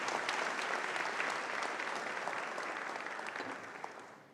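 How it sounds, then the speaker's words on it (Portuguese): Members of the Partido Novo applaud at a ceremony in Porto Alegre, a full, dense round of clapping from a large gathering that gradually softens toward the end. "receba a salva de palmas aqui de todos os filiados do Novo"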